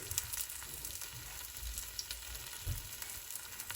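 Meat frying in a pot with a little oil, a steady close sizzle with faint stirring scrapes and a few soft knocks running throughout.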